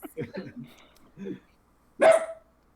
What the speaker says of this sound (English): Whose dog? that's Whiskey. No. Always a barker